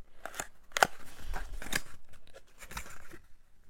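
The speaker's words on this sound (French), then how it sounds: "Je vais l'ouvrir." A The Body Shop eye contour roller package from an advent calendar is opened up close, with a few sharp snips and crunchy plastic crackles spaced over a few seconds, no talking.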